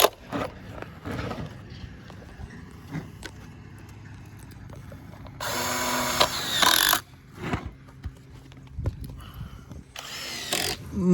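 Bursts of a power drill driving screws into a mobile home roof in short runs, with clattering and knocking between them and a brief voice early on.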